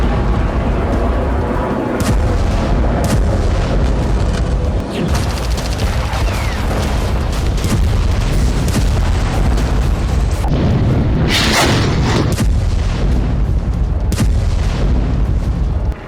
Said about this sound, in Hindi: सात अक्टूबर के बाद इजराइल ने गाजा पर जो बमबारी शुरू की वो भयानक होती जा रही है